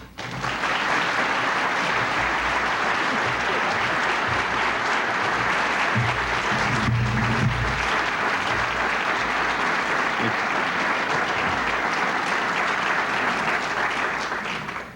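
Sustained applause from a large crowd at a micro-enterprise symposium, a dense steady clapping that fills the room without letup.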